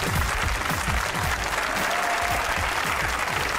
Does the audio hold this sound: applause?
yes